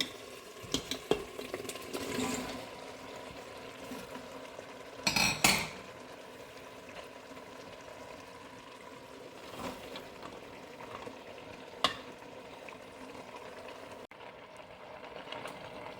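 Mixed vegetables and tomatoes stir-fried in a pan for vegetable pulav, with a steady soft sizzle broken by scraping spatula strokes and a couple of louder clattering bursts.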